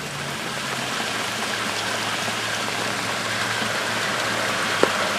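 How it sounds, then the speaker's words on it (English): Flash flood water from an earlier storm rushes into an overloaded storm sewer, a loud, continuous roaring wash of churning water close by, steady throughout. "There you guys go, flash flooding."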